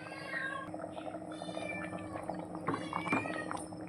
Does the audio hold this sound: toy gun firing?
no